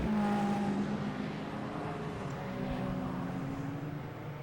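Britcar Endurance Championship race cars circling Oulton Park behind a safety car give a steady, fairly close engine drone, with a rising and falling whine as one car passes. There is no talk.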